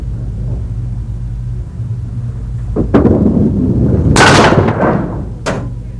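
A five-pin bowling ball rolls down a lane in a 1984 TSN televised match and crashes into the pins. A low rumble builds to a loud, clattering burst near the end, with a sharp crack after it.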